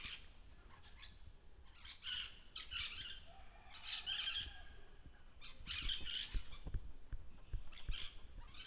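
Parrots high in the trees of a Jamaican parrot sanctuary give harsh, shrill squawks in steady overlapping bursts, fairly loud and with no talking.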